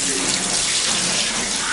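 Tap water runs steadily into a sink as young children at a kindergarten wash their hands, a loud, close, continuous splashing stream with no break.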